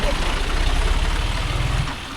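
Mahindra 415 DI tractor engine running steadily up close, a loud low rumbling idle with a rhythmic throb that drops off slightly near the end; faint voices in the background.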